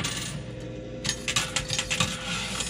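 Coins clatter and jingle in a rapid cascade inside a coin pusher arcade machine, dense metallic tinkling over a steady arcade hum, close and loud, no voices.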